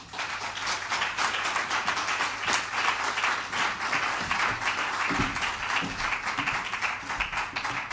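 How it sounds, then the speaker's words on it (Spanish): Audience at a talk on music therapy gives a speaker steady applause, a continuous roomy patter of clapping at moderate level. "Un fuerte aplauso para Juan Manuel Morillo."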